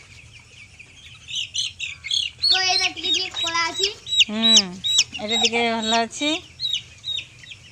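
Chicks on a poultry farm chirp and cluck steadily and up close, with bright, high peeps overlapping throughout while people talk nearby.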